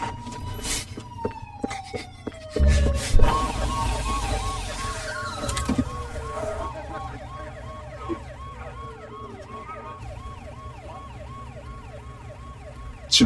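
A wailing siren sweeps up and down steadily, fairly close, over a low rumbling engine background, with a few short knocks early on.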